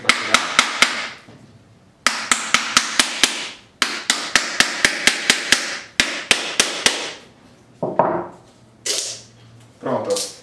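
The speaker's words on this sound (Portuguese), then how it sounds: "Vai batendo devagarzinho para não quebrar o coco todo" A hammer taps a coconut in repeated quick bursts of sharp, close knocks with short pauses between them, struck gently to crack the shell open without smashing it; brief voices cut in near the end.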